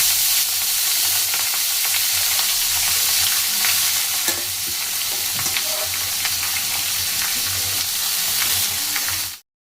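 Washed curry leaves and a bay leaf drop into hot oil and sizzle loudly and continuously for several seconds with stirring crackles, then cut off abruptly.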